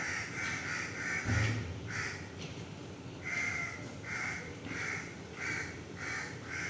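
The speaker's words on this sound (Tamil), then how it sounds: "காக்கா மட்டும்தான் இப்போ கத்திக்கிட்டு இருக்குது" Crows cawing from a tree in the morning, with repeated harsh caws in uneven bursts from more than one bird, fairly near, over a constant outdoor ambience and no speech.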